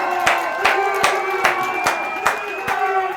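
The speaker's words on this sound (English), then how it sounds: "can we please have a big round of applause" Rhythmic clapping at an awards ceremony, sharp claps at a regular pace with a tonal musical or cheering layer running underneath, fairly loud and close.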